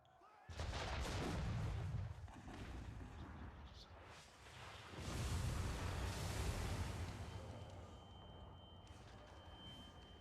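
Heavy cannon blasts and gunfire roar during an attack in Assassin's Creed 3, two long rumbling explosive bursts with crackling shots, fairly distant and muffled, with faint shouting voices.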